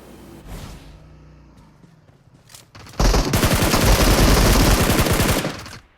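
Gunfire in the battle royale game PUBG Mobile: a few faint earlier sounds, then a loud, sustained rapid burst of automatic fire for about three seconds.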